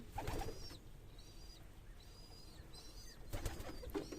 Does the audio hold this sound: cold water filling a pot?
no